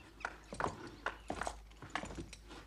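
Hooves of a horse clip-clop steadily at a walk as it is led toward the stables in an animated swashbuckler set among musketeers, several evenly spaced hoof strikes, close and clear with no talk.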